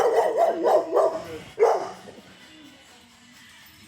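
An angry dog barks repeatedly in quick bursts on a rural property near an old Camaro Z28, close and loud at first, then a final single bark before fading into quieter background.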